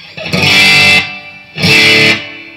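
An electric guitar plays two loud, distorted strummed chords, each ringing about a second, boosted by an overdrive and followed by a short room-like reverb tail that dies away quickly between them.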